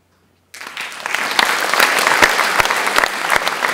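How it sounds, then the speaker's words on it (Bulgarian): After a moment of silence, a large audience at the Lyubimets 13 national awards ceremony in 2016 breaks into applause that swells and holds as a steady wash of many clapping hands. "с аплодисменти"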